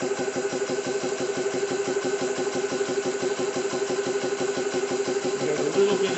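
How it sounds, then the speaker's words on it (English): A Xisico CS3 4500 PSI portable high-pressure air compressor, 12/110V, runs with a steady, rapid, pulsing mechanical chug and fan hum, close and continuous without talk. "So in all, it's a pretty quiet compressor."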